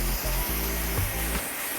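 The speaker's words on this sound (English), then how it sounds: "the brush and the blow dryer are a team" A blow dryer on medium heat drying short hair during a barbered haircut: a steady, close whooshing hum with a faint tonal whine, briefly dipping a few times as the airflow shifts, with no talking.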